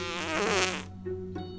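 A cartoon fart sound effect from an Among Us animation: a loud, buzzy blat of about a second, followed by a short, quieter sputter.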